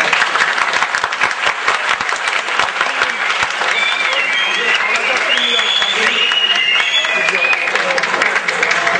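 An audience at a Quran course forty-hadith competition applauds loudly and steadily, dense clapping throughout with scattered whistles and voices mixed in over the top.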